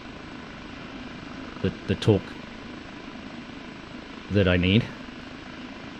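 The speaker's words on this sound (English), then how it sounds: "Just holding that helicopter." A Kiowa Warrior helicopter holding a hover in the DCS flight simulator keeps up a steady low engine and rotor drone, with someone speaking briefly over it twice.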